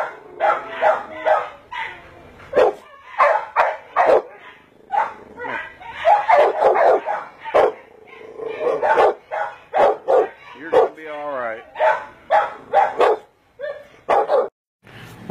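A small dog named Grumpy barks and yips in rapid, loud bursts close by, with short whimpers between and a person speaking over some of the barking.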